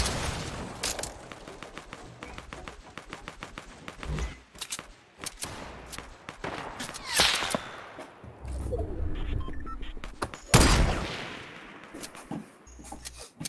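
Rapid bursts of gunfire from a Fortnite Battle Royale match, with dense volleys and scattered single shots, some near and loud, others farther off, plus a heavy boom around the tenth second, continuing throughout without speech.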